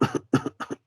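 A voice imitates a patient's weak cough, giving three quick, soft bouts of double coughs in rapid succession, low in intensity and close.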